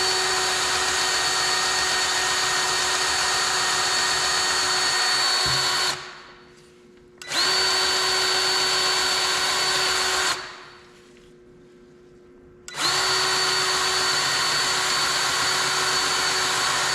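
A Milwaukee M18 cordless grease gun, broken and being repaired, whines loudly with a steady motor tone in three bursts, cutting out twice for about a second or two between runs, with no talk.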